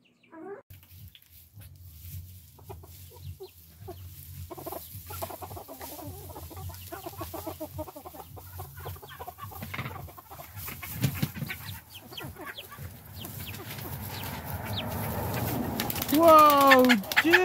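Chickens cluck softly in a coop, with a silkie hen among large roosters, while people talk over the birds and a louder squawk rises near the end.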